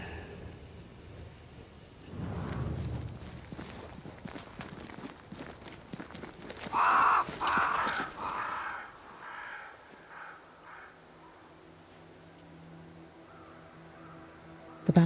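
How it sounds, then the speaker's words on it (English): Crows caw in the video game Banishers: Ghosts of New Eden, a flock around a great tree, heard as a few harsh calls amid footsteps and a soft rainy ambience, fairly quiet overall. "Crows. They flock to that great tree up there."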